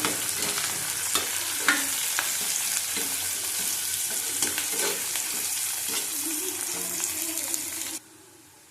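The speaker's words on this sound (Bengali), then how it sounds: "পেঁয়াজটা আমাদের ভাজা হয়ে গেছে।" Chopped onion and green chili fry in a pan on the stove, giving a loud, continuous crackling sizzle close up that suddenly drops to a faint hiss near the end.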